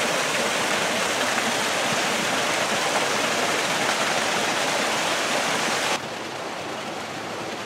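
A waterfall roars as a dense, continuous rush of falling water, loud and close, with no voices and a slight drop in level near the end.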